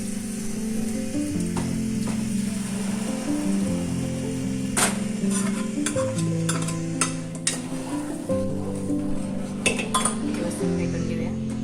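Dal being stirred into green chillies cooking in a pan for Rajasthani dal bati, with a spoon scraping and clinking against the metal in a steady run over a low sizzle.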